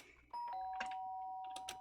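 Two-note doorbell chime from the DanganRonpa video game, a quiet ding-dong whose tones hang and decay, with a few light clicks near the start and end.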